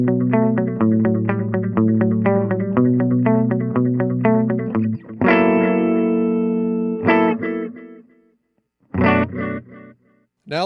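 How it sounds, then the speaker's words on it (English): An electric guitar played through a Ventris Dual Reverb pedal set to a longer pre-delay: a run of quick picked notes, then sustained chords whose reverb tails ring out and fade, followed by a final struck chord. "The pre-delay control sets the time of the delay, so I'm going to push that back a little bit."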